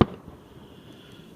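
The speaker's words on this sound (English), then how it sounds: "Watching the fireworks." A single firework bursts sharply at the start over a rural outdoor evening, its bang fading quickly into a quiet, faintly humming background.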